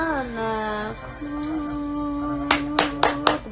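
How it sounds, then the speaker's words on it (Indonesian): A person claps their hands four times at a steady pace, each clap sharp and close, while a sustained sung tone lingers underneath, in a Jakarta apartment during a live stream. "Tepuk tangan aja sendiri."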